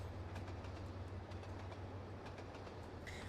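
Train running in Trainz Simulator 2 on the Hawes Junction route, a steady low rumble and rolling noise with faint rhythmic clicks, continuous and fairly quiet, no talking.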